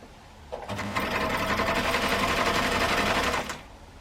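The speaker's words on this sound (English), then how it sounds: "Again, under the machine, and you use a normal 1/4 inch seam." A sewing machine stitches a quarter-inch seam on a Dresden quilt piece in one steady, close burst of about three seconds.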